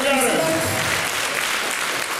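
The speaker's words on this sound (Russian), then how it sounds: "Аплодисменты, друзья мои, руки вверх!" Audience applause at a children's variety concert, loud and steady crowd clapping filling the hall with a voice briefly audible over it near the start.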